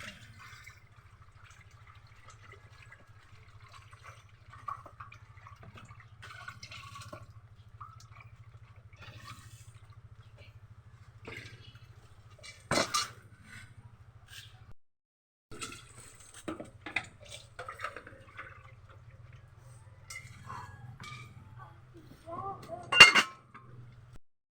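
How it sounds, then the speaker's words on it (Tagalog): A cooking pot is washed with water: quiet splashing, drips and occasional metallic clinks of the pot against utensils, with a few louder clanks standing out over a low steady hum. "Gasan na natin ang kaldero."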